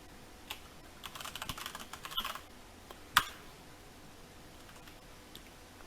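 Password being typed on a computer keyboard, a quiet, close run of irregular key clicks with one sharper tap partway through, against a faint room hiss and no talking.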